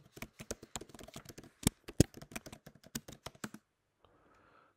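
Rapid clicking keystrokes on a computer keyboard while an email address is entered, a quick irregular patter of close taps with a couple of sharper key hits, then quiet with faint background noise.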